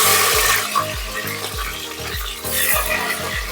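Chopped onion hits hot oil in a pan for a Karnataka-style egg chicken curry, producing a loud, steady hiss and crackle that continues throughout over background music.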